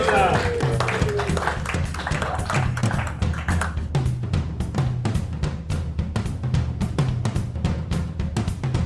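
Applause at a hybrid Rotary club meeting greets Rotarian Lisa Martin, a steady run of distinct, fairly close claps that starts under a voice and continues mostly on its own.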